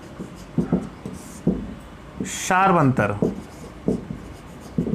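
A pen scratches out a maths solution in short, close strokes, with someone speaking Hindi over the writing in a classroom lesson.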